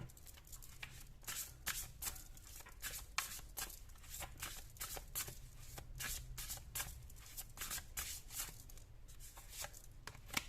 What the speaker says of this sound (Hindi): अगर आपको कार्ड शफलिंग अच्छी नहीं लगती है आप स्किप कर सकते हो।